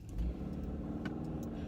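A car rolls along a road with a steady, low engine hum and tire rumble throughout, close by, with faint clicks and ticks scattered over the drone.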